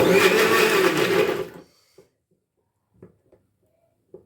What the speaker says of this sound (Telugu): మనం గ్రైండ్ చేసుకున్నప్పుడు ఉల్లిపాయ ముక్కలు అక్కడక్కడ కనిపిస్తాయి